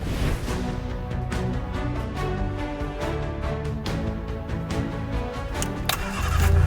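A Reliant Robin, the classic British three-wheeled car, cranks and fires up, its engine settling into a steady, busy mid-pitched running note with loud rumble that swells near the end.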